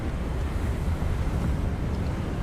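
Wind blows hard through a wizarding video game world, a steady low roaring rush with buffeting gusts that stays loud and continuous, with no speech.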